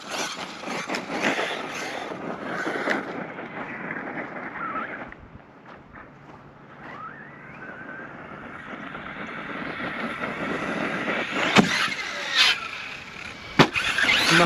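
A Kraton XL RC truck on Pro-Line tires drives around a dirt pit and ramp, its electric motor whining and surging up and down, with louder bumps and clatter near the end.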